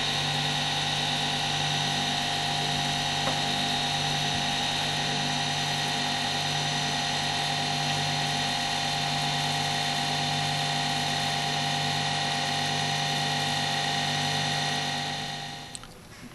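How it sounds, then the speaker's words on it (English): A variable speed drive motor on a dissectible machine teaching rig runs steadily, giving a constant electrical hum with stable tonal whine for about fifteen seconds before it cuts off at the end; no talking. "the student is increasing the speed of the drive and measuring the voltage"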